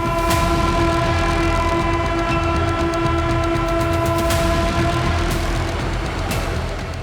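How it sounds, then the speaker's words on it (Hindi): Vande Bharat express train departing Katra for Srinagar on the new Kashmir line, a steady loud rumble of wheels and carriages with sustained horn tones and a few sharp clanks, no talking. "कटरा से श्रीनगर को रवाना होने वाली वंदे भारत ट्रेन"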